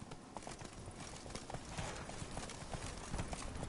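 A horse gallops in The Witcher 3 video game, its hooves clip-clopping in a steady, rapid rhythm over a dense wash of ambient noise, with no talk.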